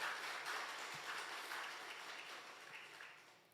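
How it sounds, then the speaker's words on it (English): Audience applause at a church gathering, a faint, steady wash of clapping that slowly fades over a few seconds. "Let's give them a big round of applause."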